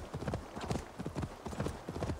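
Horse hooves clip-clopping at a steady riding rhythm while galloping across terrain in Assassin's Creed Valhalla, a continuous run of close, evenly repeating hoofbeats with no talk over them.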